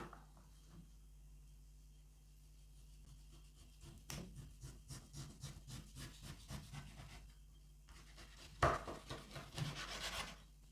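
Repeated rasping cuts and scraping strokes of a knife through pork fat, close up, growing louder and more rapid near the end.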